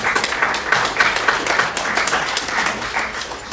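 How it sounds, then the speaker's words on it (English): An audience applauds after a fundraising total is announced, a dense, steady wash of clapping that fills the space at moderate loudness, with faint voices mixed underneath. "give yourselves a round of applause"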